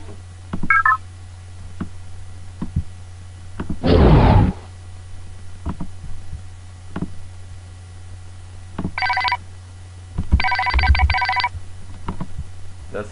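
Custom retro Microsoft Windows theme system sounds play in sequence: brief tonal chimes and beeps separated by gaps, with one short noisy burst, over a steady low hum.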